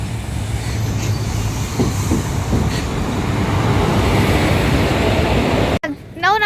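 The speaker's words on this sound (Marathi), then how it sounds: "मला ट्रेन सुटली मम्मीची आता स्वारी चालली मुंबईक" A train departing Sawantwadi railway station rumbles loudly with steady wheel and carriage noise and faint squeals, then cuts abruptly to a voice speaking near the end.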